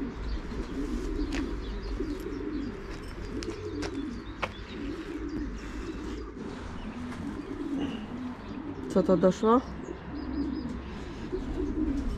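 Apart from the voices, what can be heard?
racing pigeons cooing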